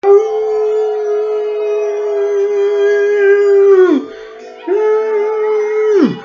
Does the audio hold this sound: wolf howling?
yes